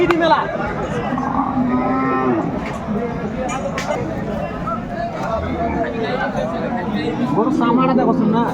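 A Sahiwal cow and her calf moo loudly and repeatedly at a busy cattle market, the lowing rising over steady crowd chatter and nearby voices talking.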